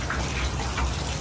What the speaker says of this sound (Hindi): एक तरफ ये झरना सा गिर रहा है, पानी की खूबसूरत आवाज आ रही है